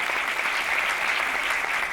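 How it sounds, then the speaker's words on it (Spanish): An audience applauds steadily at a live talk, a dense, even wash of many hands clapping throughout with no speech over it. "Para María José se ha pedido hoy ya un aplauso"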